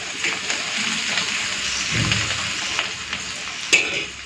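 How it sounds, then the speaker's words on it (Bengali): Chopped onions fry in hot mustard oil in a pan, a steady close sizzle and crackle that continues without a break, with a brief sharper spit near the end. "তেলটা গরম হয়ে গেছে, এখন দিয়ে দিচ্ছি পেঁয়াজ কুচি।"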